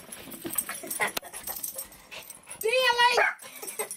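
Coon dogs whimpering, with a clear rising whine near the end standing out over a busy background and people talking around it.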